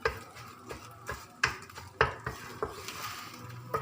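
Egg stir-fried in a pan for chicken fried rice with vegetables, the spatula scraping and clinking against the pan in irregular strokes over a soft, steady sizzle, close and fairly quiet, with no talking.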